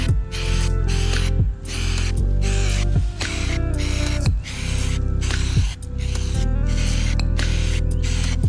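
Spray paint going on as a second coat over a Toyota GR86 part: loud close hissing bursts in several pulses separated by brief pauses, with a low rumbling tone under each burst.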